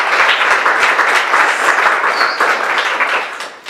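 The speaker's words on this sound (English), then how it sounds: "Please, a round of applause." Close, loud applause from an exhibition audience, many hands clapping in a thick steady burst that thins and fades toward the end, with a brief whistle partway through.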